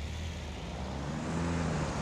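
A car drives in the BeamNG Drive video game, a steady engine drone with a slight rise in pitch, alone and without talk.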